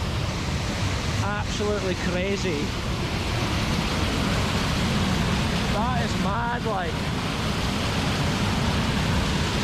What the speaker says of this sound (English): Look at the force of this water right here.